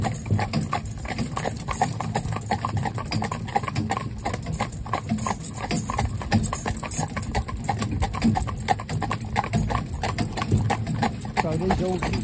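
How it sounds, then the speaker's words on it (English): Horses, including a part-bred Arab stallion, trot inside an indoor arena, their hooves clip-clopping in a quick, steady rhythm while a person talks over them the whole time. "So these horses running inside here"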